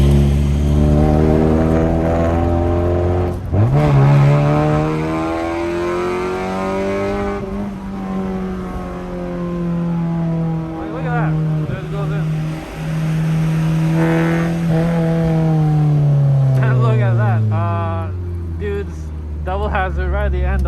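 A Honda Civic engine pulls hard under throttle, its loud, close drone climbing and falling in pitch through repeated revs and gear changes over about twenty seconds, with a voice talking over it.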